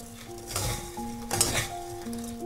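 Strips of candied papaya stirred in a pan as the sugar crystallizes, giving a steady close scraping and sizzling texture with soft clinks of the utensil against the pan.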